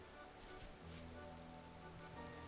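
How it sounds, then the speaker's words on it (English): Steady rain falls in the Vintage Story game, a dense, even hiss of drops on surfaces with a low humming tone joining underneath partway through, with no talking. "Starting to rain"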